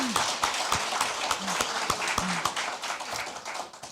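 Clapping from a crowd at a Korean political gathering, a busy patter of hands with a few sharper nearby claps, and a voice speaking intermittently over it.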